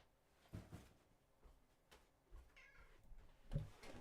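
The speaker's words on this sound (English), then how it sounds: "I got to open the door because the cat's freaking out." A cat meows faintly near a door in a quiet room, giving a few short, soft cries spread across the moment.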